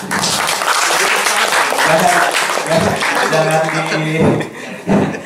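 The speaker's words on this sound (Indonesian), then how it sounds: "silakan tepuk tangan" An audience at a lecture on Islam in Banjar applauds the speaker, a continuous patter of clapping mixed with voices and a bit of laughter, tapering off toward the end.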